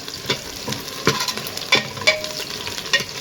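Whole garlic cloves frying in oil with browned onion, a crackling sizzle punctuated by sharp stirring clatters at irregular intervals, close and moderately loud, no speech.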